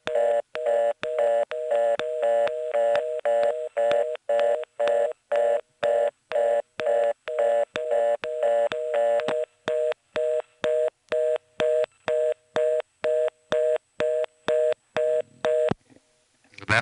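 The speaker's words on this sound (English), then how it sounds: "we are currently getting a reorder from both offices" A 1977 Carolina Tel. NX1 telephone exchange office in Farmville, North Carolina gives a reorder tone: a fast, even series of short beeps repeating about twice a second for roughly fifteen seconds, clear and steady, then stopping.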